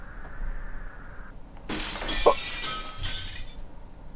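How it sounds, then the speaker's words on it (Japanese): Glass shatters in the video game Kamaitachi no Yoru: a sudden bright crash of breaking panes cuts through a quiet backdrop, then scatters into a second of tinkling fragments that fade away, with no talking. "ガラスが割れた音みたいやったけど"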